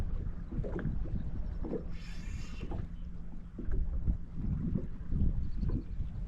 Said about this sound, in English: The wind picked up finally, and hopefully it's a walleye.